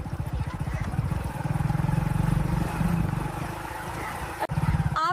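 A motorcycle rides along village roads, its engine throbbing in a steady close pulse with a rumbling low drone, dipping briefly near the end before picking up again.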